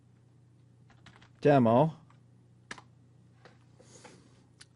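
A computer keyboard clicks as a file name is typed into a save dialog, a short burst of quick, close keystrokes with a brief spoken word mixed in, then a few scattered taps over a quiet room hum.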